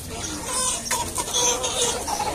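Chickens for sale cluck at an open-air market in Canafístula Frei Damião, Alagoas, Brazil, with a steady close clucking chorus over the busy crowd din.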